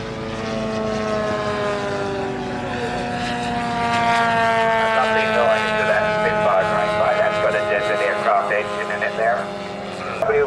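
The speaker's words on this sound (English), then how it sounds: "Texan takes off, as well as the Spitfire goes up there" Radio-controlled model Texan and Spitfire aeroplanes fly at an outdoor RC airshow, their propeller engines droning with rising and falling pitch as they pass, moderately loud over a murmuring crowd with a voice talking.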